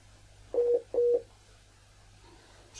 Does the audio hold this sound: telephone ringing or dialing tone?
yes